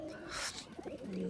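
A pigeon, an old-bloodline rare breed from Khulna, gives a brief soft coo from a loft, faint against a quiet background.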